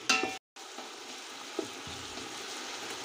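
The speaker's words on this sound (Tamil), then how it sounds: "பாருங்கள், நல்லாவே ஃப்ரை ஆகுது பாருங்கள்" Ingredients for Mysore mutton pulao sizzle in a pan with a continuous hissing crackle, opened by a brief louder clatter and a momentary dropout before the even frying sound resumes.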